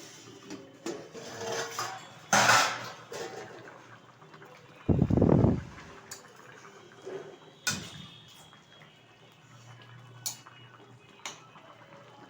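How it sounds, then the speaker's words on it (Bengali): The lid lifted off a pot of fish curry with taro and pangas fish, giving a few scattered metallic clinks and one louder clattering knock amid quiet kitchen sounds and soft bubbling. "ঢাকনাটা তুলে দিচ্ছি।"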